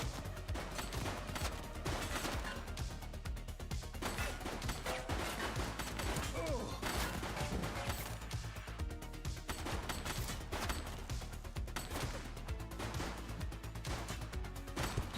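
Rapid bursts of gunfire from a police action game set in a city precinct, loud and continuous with clattering volleys layered over music and effects throughout.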